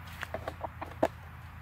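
A few short, soft clucks from a chicken, spaced irregularly over a low background hum, with one slightly louder cluck near the end.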